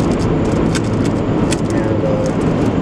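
Inside a moving car, a steady loud road rumble and engine drone fill the cabin, with a few light clicks and jingles on top and no clear talk.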